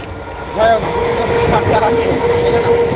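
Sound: train passing by at night

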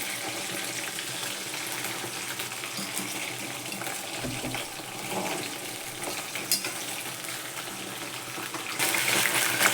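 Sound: prawn fritters crackling in hot oil

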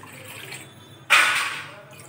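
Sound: pouring two tumblers of water into a pot

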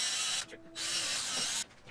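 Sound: drill drilling holes for cabinet door handle

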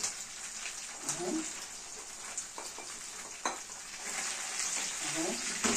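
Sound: stirring garlic frying in a pan

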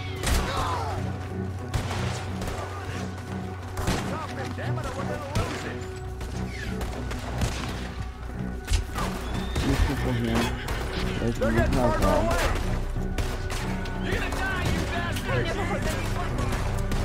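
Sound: gunfire in the video game Red Dead Redemption 2

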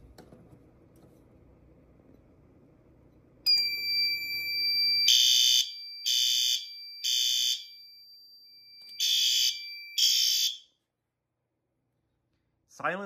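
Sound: System Sensor L-Series fire alarm sounding

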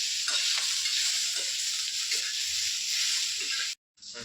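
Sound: cumin seeds sizzling as they fry in a pan

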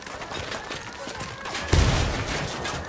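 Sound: gunfire in Ghost Recon Wildlands video game

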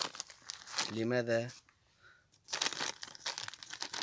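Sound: plastic nursery bag crinkling while planting olive cutting

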